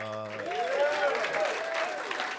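A comedy club audience claps and whoops in a short burst right after the comedian speaks, with excited cheers rising over the applause.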